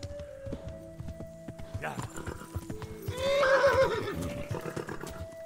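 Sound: horse neighing and hooves clip-clopping in Kingdom Come: Deliverance video game

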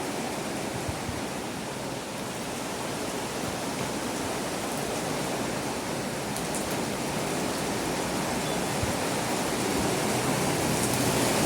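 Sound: heavy rain

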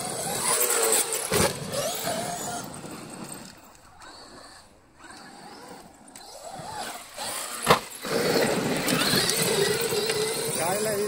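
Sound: Traxxas XRT 8S RC truck at full throttle

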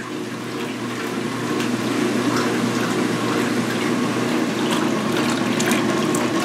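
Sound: 2016 Speed Queen washing machine running with water

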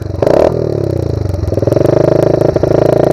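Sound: Pro Tork TR100F mini motorcycle engine running

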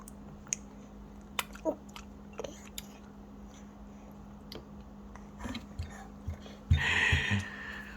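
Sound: baby eating tomato, chewing and gulping

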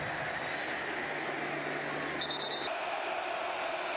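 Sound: stadium crowd cheering at Ohio State vs Michigan game

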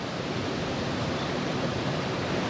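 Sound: Danish waterfall in Sweden

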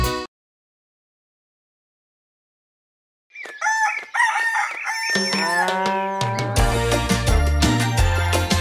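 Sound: rooster crowing

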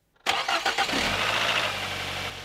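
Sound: car engine starting and revving

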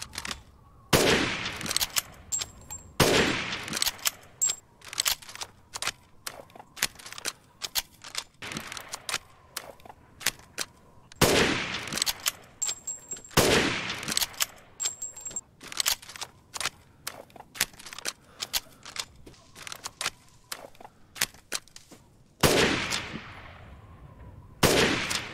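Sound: F2 rifle gunfire in the video game Resident Evil Village

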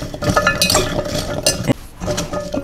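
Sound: mixing fermented carrot ingredients in a bowl

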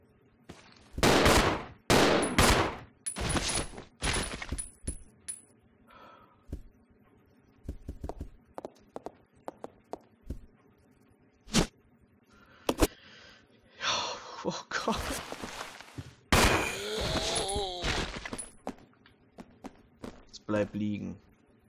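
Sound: gunfire in Resident Evil Zero video game

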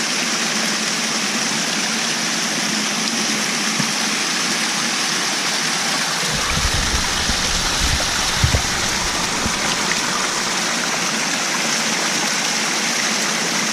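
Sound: mountain stream flowing on Mount Olympus trail

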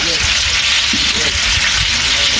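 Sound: cardamom, cinnamon, bay leaf and cloves frying in oil

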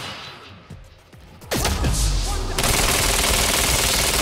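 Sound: gunfire from the player's other gun in the video game Quantum Break

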